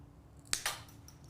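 Scissors snip through a Dollar Tree peel-and-stick tile in two sharp, close cuts about a tenth of a second apart, standing out clearly against a quiet room.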